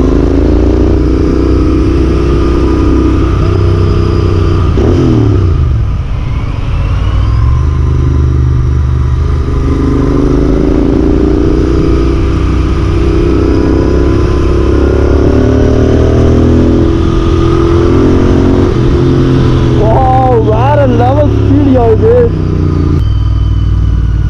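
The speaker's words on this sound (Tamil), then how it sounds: "பைக்கோட சவுண்டு கேட்டாலே மேக்ஸிமம் பீப்புள் நகர்ந்துடுறாங்க" A Royal Enfield Interceptor 650 is ridden along a road, its twin-cylinder engine droning steadily and rising and falling in pitch as the rider shifts gears. Wind buffets the microphone throughout, and a horn sounds briefly near the end.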